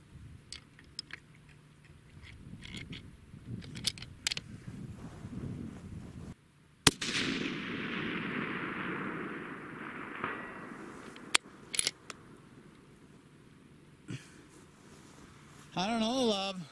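A Browning X-Bolt rifle fires on a long-range canyon range, giving several sharp, loud cracks spread through the stretch, one followed by a long rolling echo, with people talking between shots.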